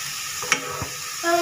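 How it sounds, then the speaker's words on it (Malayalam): Cauliflower fries in hot oil for gobi manchurian, a short burst of sizzling with a stirring clink and scrape near the middle, close and fairly loud. "അങ്ങനെ നമ്മൾ കോളിഫ്ലവറൊക്കെ വറുത്തെടുത്തിട്ടുണ്ട്."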